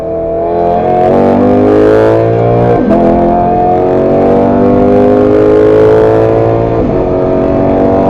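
A Lexus GS accelerates up an on-ramp onto an interstate highway in Mexico. The engine note climbs loudly and steadily, broken by two brief dips where it downshifts and shifts up, with no talking.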